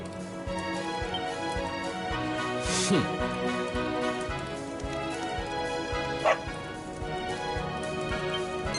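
A dog barks in a PS4 video game, with a few yipping barks standing out over steady, looping game music.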